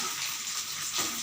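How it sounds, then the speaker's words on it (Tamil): Fish curry boils in a pot, a faint, hissing bubble and simmer with a soft, steady sizzling texture over a short moment, no talking. "குழம்பு நல்லா கொதிச்சு வந்துக்கிட்டு இருக்கு"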